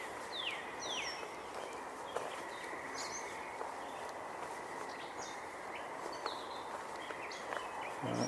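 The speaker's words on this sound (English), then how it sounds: "It sounds like a gray catbird nearby." A gray catbird calls nearby with scattered short, varied chirps and quick slurred notes, fairly faint against a steady outdoor background.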